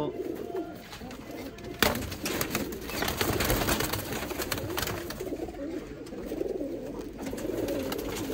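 Pigeons cooing in a loft of fancy rojy pigeons, soft repeated low coos close by, with rustling and background noise throughout.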